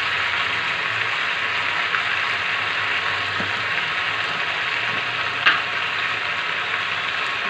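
Mutton pieces frying with spices in a pan, a steady broadband sizzle continuing throughout with an occasional scrape of a stirring spoon, close and alone.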